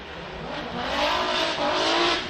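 A Formula D drift car at the Long Beach qualifying event is held on the throttle, its exhaust note a loud, sustained roar that swells and rises in pitch. Tire noise and crowd din blend in, with no talk.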